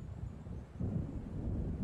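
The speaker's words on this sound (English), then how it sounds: "It seems there's a storm coming." A low, distant rumble of thunder from an approaching storm over the water in Alan Wake, swelling briefly and faint amid windy noise, with no voices.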